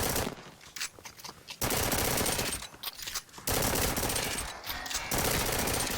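Gunfire in a video game with recoil control comes as rapid automatic bursts, loud and dense. Three long strings of shots are broken by short pauses.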